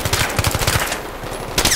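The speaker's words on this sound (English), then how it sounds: "I don't know where I'm getting shot from" Rapid automatic gunfire from a Battlefield 3 campaign firefight, several quick bursts of close, loud shots followed by a lull and a fresh volley near the end.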